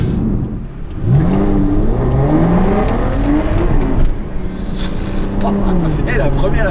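An Aston Martin DBS in sport mode accelerates hard, its engine note climbing and dropping through the gears, loud and close from inside, with people talking over it.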